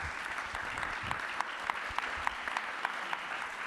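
Warm audience applause for Katharina Ernst at a live event, with a steady wash of many hands clapping and a few sharper, louder claps standing out near the front.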